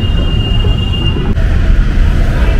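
A metro train rumbles loudly and continuously up close, with a thin steady high squeal riding over the low roar for about half the clip.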